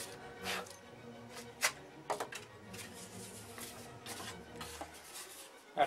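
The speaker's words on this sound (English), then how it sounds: "I square up the ends with a sanding block" A sanding block squares up the ends of a wing sheet while building a Tom Morris Regular Millennium wing, heard as soft, close rubbing rasps with scattered light taps and knocks.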